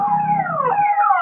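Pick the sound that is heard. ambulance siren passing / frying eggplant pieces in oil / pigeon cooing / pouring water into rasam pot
ambulance siren passing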